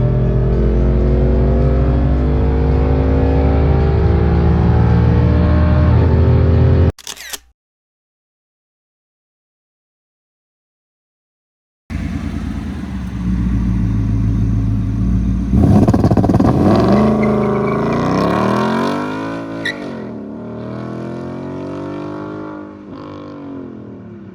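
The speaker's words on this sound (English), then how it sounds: "We got the two-step installed, and it even at 1600 RPM, it's pretty brutal." A Ford S550 Mustang fitted with an MSD two-step rev limiter blares loudly at a held rev, cuts to silence, then launches with a roaring engine that climbs through several rising gear pulls close by.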